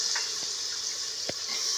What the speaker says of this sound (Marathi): आता बघा वटाणे आणि बटाटे आणि कोबू घालत आहे भाजीला